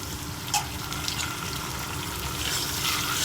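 Tomatoes go into a pan of frying chana dal while making upma, giving a steady soft sizzle and bubbling hiss throughout, with no talking.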